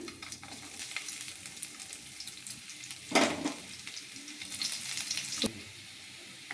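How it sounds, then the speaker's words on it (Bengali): Five-spice seeds, two dry red chillies and chopped garlic sizzle in hot oil for tempering masoor dal, a quiet hiss near the pan punctuated by a couple of sharper spattering bursts. "ডালটাকে এবার ফোড়ন দেব। এখানে 5 ফোড়ন দিয়ে দিচ্ছি, 2 শুকনো লঙ্কা, রসুন কুচি"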